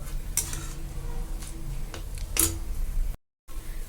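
A spoon scrapes and stirs through a pot of boiling lentils and chayote in a few short strokes, with soft clinks against the metal over a steady low simmering rumble.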